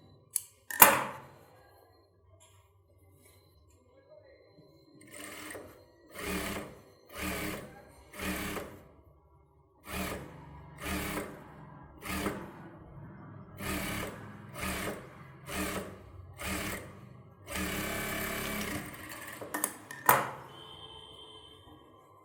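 A sewing machine stitches a kids' pattu pavadai sattai in a run of short, evenly spaced bursts of rapid whirring, close and clear, with quiet pauses between them.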